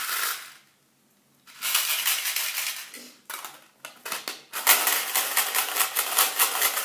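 Small metal charms for a petit Lenormand reading are shaken and shuffled inside a little box, giving bursts of close, bright jangling and clinking that stop briefly in a short silent gap, then resume in uneven rattling waves.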